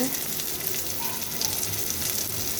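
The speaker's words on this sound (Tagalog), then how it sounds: "Kaya gisahin natin. And then yung ating ginger," Ginger sautéing in a pan as chicken tinola is being cooked, a steady quiet sizzle and crackle of frying, continuous and close, with no talking.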